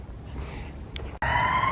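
Sirens wail in the distance along a road near a park pond in Iroquois Park, a steady rising tone cutting in sharply near the end over low background hum.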